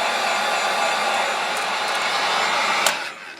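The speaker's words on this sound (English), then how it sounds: "Now let's get the heat gun. We'll dry it before we take the wrap off." A heat gun runs continuously as a steady close airy roar while drying freshly sprayed two-tone green paint, then its sound drops near the end as it is shut off or moved away.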